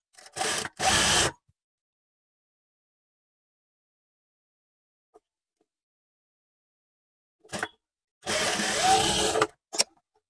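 A sewing machine stitches the shoulder seam of a sleeveless blouse in short close bursts, two quick runs at the start and a longer run near the end, with near silence between.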